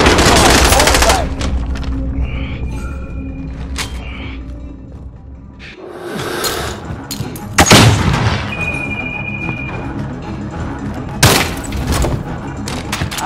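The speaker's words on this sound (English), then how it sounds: "We're taking fire." Heavy gunfire and explosions fill a Call of Duty: Modern Warfare match, with loud bursts, booming impacts and sustained automatic fire set against battlefield ambience.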